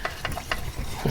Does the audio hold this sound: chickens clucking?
no